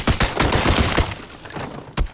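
Rapid video game gunfire with dense overlapping shots and a burst of fusillade, loud and close, with one sharp shot near the end and no talking.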